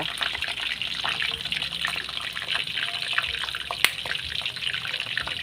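Cooking oil poured into a pan while making a grilled tilapia dish, a steady trickling, liquid stream running throughout at close range, with occasional faint clinks.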